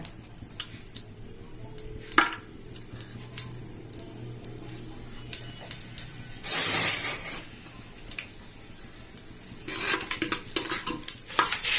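Bay leaf, cloves and cinnamon fry in a pot for chicken biryani, a faint low sizzle broken by sharp spoon clinks and scrapes against the metal, with one louder hiss burst midway and more toward the end.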